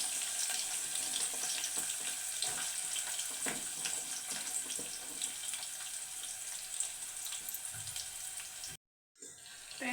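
Chopped onions fry in a pan with a constant close hiss and crackle. Scattered clicks and stirring scrapes sit on top, and near the end the sound cuts out for a moment before the sizzle returns.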